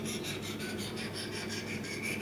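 A Cutco cheese knife is sharpened on a sharpening stone, giving a steady, close, fairly quiet rasping scrape that repeats in even strokes without pause.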